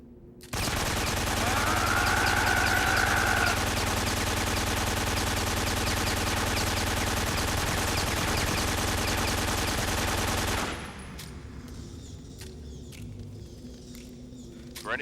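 A long, dense, continuous burst of automatic gunfire from Metal Gear Solid 3: Subsistence, loud and unbroken for about ten seconds before cutting off into quieter game sound.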